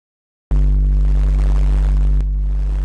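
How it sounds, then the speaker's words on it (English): A noise bass synth run through stacked distortion effects starts abruptly as a loud, dense, buzzing low drone with a gritty upper layer, changing texture once partway through, with no voices. "So by stacking these different distortions, we get a very intense distorted effect"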